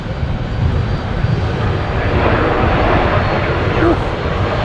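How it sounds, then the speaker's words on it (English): An Emirates Airbus A380 at Brisbane Airport at night, its engines a steady, loud, broad roar that holds for several seconds, with wind noise mixed in. "We're just watching the Emirates A380s."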